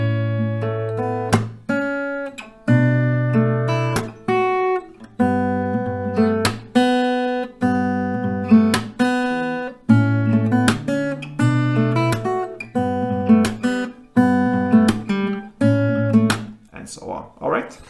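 Acoustic guitar chords strummed in a steady, slightly slow rhythm, with sharp claps punctuating the beat between the strums.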